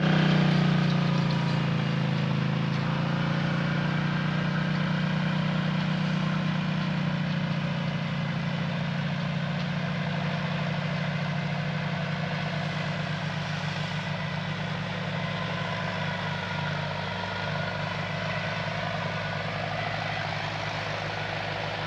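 A tractor engine drones steadily for a long stretch while tilling a field, a low, heavy rumble with a slight whine, continuous and unbroken throughout.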